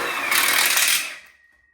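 A power driver whines briefly as it sinks a screw into a metal outdoor kitchen bar counter frame kit, one short burst about a second long that cuts off and fades.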